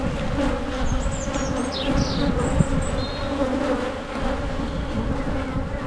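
A honey bee swarm buzzes steadily around its hive after four weeks of filling it, a dense continuous hum from many insects close by with a few louder passes over it.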